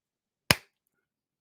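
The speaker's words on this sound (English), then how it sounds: "Another good clap right there." A single sharp hand clap, close and crisp with a quick decay, used as an audio sync cue, standing alone in otherwise near silence.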